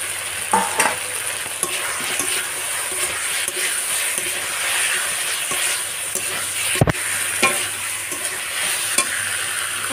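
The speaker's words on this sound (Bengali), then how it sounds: "এবার দিয়ে দেব ভেজে রাখা পটল এবং আলু।" Fried pointed gourd and potato pieces being stirred into a sizzling masala, with a constant hissing fry under repeated spatula scrapes and clinks against the pan, one sharp knock near the end.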